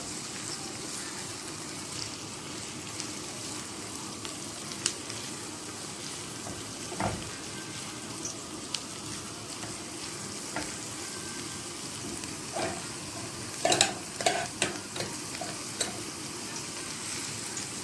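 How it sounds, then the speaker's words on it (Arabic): Minced meat sautéing in oil in a pan, made for a tray of stuffed potatoes, with a steady close sizzle throughout and occasional clinks and scrapes of stirring toward the end, and no talking. "احنا هنعصج بس اللحمه"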